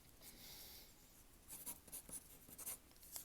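Pencil drawing on paper, heard up close as soft scratchy strokes in short bursts, quiet and intimate, with a brief faint hiss before the strokes start.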